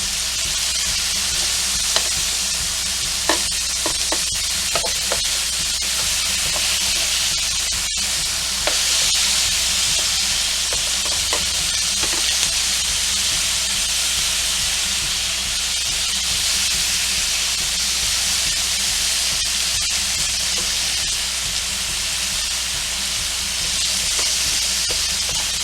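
Korean galbi, flanken-cut beef short ribs in a BBQ marinade, sizzle loudly and close on a hot surface, a dense continuous hiss with a few small pops and clicks early on.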